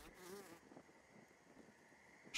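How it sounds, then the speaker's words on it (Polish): Thin, high insect whine from mosquitoes in the survival video game Grounded, buzzing faintly and steadily in the background, with a brighter burst at the start. "Gdzieś tu ciągle słyszę komary."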